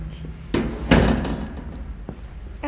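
An office door slams in the video game Detroit: Become Human, a single loud thud followed by a second weaker knock, with faint game ambience around it.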